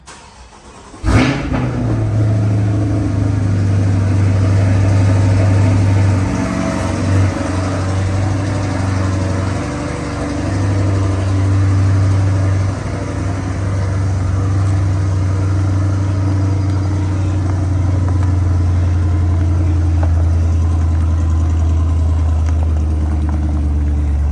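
A rebuilt 2022 Corvette C8 fires up with a loud burst of revs, then settles into a steady, deep idle that drones on close by for over twenty seconds.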